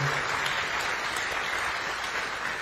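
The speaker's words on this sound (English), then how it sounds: "So if we get a round of applause for those people, that'd be great." Brief applause from an audience at a science awards event, a dense, even wash of many hands clapping at moderate level from a room's worth of people.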